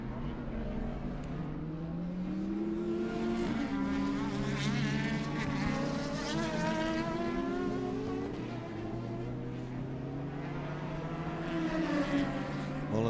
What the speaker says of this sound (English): Here's a battle between two very different motor cars, an F3 car of Graham's and the Radical of Larkham